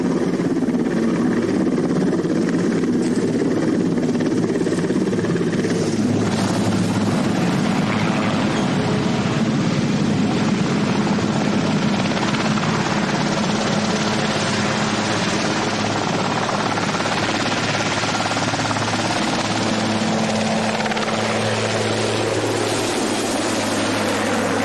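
A helicopter flying over Antarctica, its loud continuous rotor and engine drone filling the whole stretch, close and steady with slight shifts in pitch and no voices.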